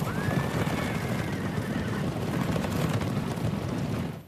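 A single horse of ancient Persian cavalry gives a long, loud neigh that trails off over a steady rumbling background of hoofbeats and battle noise.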